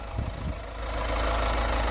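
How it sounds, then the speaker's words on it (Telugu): Diesel engine of a 2022 Mahindra Thar 4x4 idling, a steady low rumble that grows slightly louder and holds even after a short uneven start, close by with no talk. "ఇంజన్ స్టార్ట్ చేసి చూపిస్తాను చూసుకో సార్ ఇంజన్ మాత్రం ఎట్లా ఉంది"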